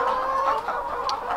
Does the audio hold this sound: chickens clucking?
yes